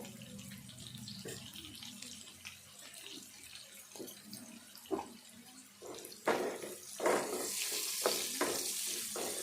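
Onion frying in a pan for ridge gourd chicken curry, a quiet steady sizzle with occasional scraping stirs and clinks that grow louder and busier toward the end.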